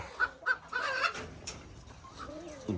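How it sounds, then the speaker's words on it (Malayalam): A turkey that has wandered into a poultry enclosure, with several short, sharp bird calls and clucks close by, followed by softer scratchy activity and low murmuring. "അതിൻ്റെ ഇടയ്ക്ക് ഒരു ടർക്കി ഇതാണ്ട് ഇതിനകത്തായി പോയി"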